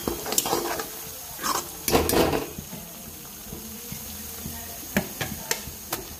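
Ground spices for a home-cooked mutton curry are stirred in hot oil in a pan, with a soft steady sizzle, a few louder scraping stirs near the start and light clinks later.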